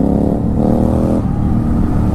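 Motorcycle engine on a highway ride near Nashik, a steady, loud, continuous drone with a low rumble throughout, no talking.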